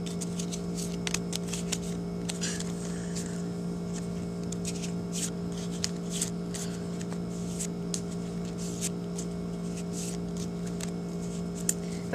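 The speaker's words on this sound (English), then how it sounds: "I guess I should give them a shuffle just for a demonstration." Soft, rapid riffling of playing cards being shuffled, a steady flutter of small clicks close by, fairly quiet.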